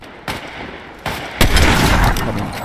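Gunfire in a shooter video game during a sniper-only match: three sharp shots land in quick succession, the last swelling into sustained, dense booming fire that continues loudly to the end, with no talk.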